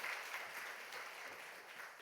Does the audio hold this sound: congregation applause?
yes